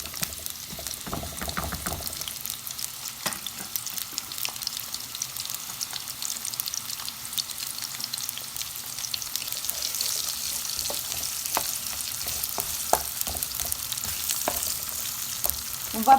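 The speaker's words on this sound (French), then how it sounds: "on va faire revenir les oignons, les poivrons et tous les épices" Onions and bell peppers fry with spices in a pan for a chicken coconut pilau, giving a continuous crackling sizzle with scattered pops and the occasional stirring clatter, close and fairly loud, with no voices.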